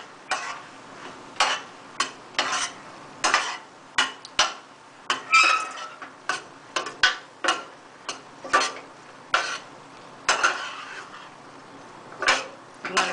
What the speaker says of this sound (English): So let's stir that okra around into our delicious mix.